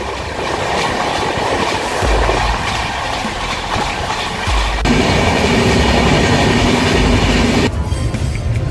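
A delayed passenger train on the South Eastern line out of Howrah near Kharagpur, heard from inside as a loud continuous rumble with rhythmic clickety-clack of wheels over rail joints and shifting track noise, no talking.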